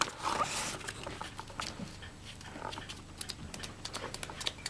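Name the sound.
sanding antique glass jar rim with 1000 grit wet dry paper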